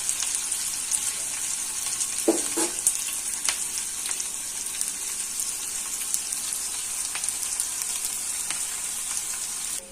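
Onions sizzling in a pan for tamarind chitranna rice, a constant hissing fry that holds steady throughout with one or two faint utensil clinks early on and no talk.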